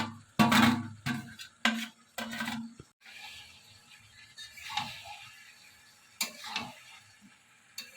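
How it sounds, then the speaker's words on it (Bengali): Cauliflower and potato are stirred and fried in goat fat in a pan, with loud scraping stir strokes in the first seconds, then a quieter sizzle and occasional clinks and scrapes close by. "ফুলকপি আলুটা দিয়ে দেবো। চর্বির সাথে ভালো করে আর একটু কষাবো।"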